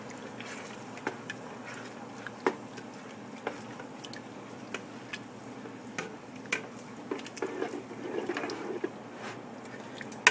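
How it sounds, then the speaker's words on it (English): Lasagna soup with diced tomatoes is stirred in a pot, giving faint soft scrapes and occasional light knocks of a spoon against the side, quiet and close with a low background hum. "And I'm going to stir that."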